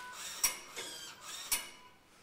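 An automatic grain sample cleaner at a grain reception runs with soft mechanical whirring and two sharp clicks about a second apart, as it sorts and weighs the grain close by.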